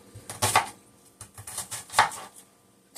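A whole onion being chopped on a cutting board for black-eyed peas with smoked turkey, a series of knife strikes in irregular bursts, close and moderately loud.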